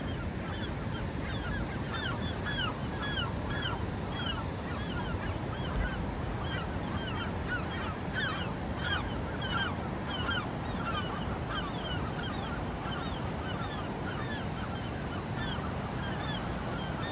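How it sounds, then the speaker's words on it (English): A flock of seagulls scared into flight at SoFi Stadium keeps up many overlapping high squawks and cries for the whole stretch, moderately distant, over a steady roar of broadband noise. "Scared the seagulls off."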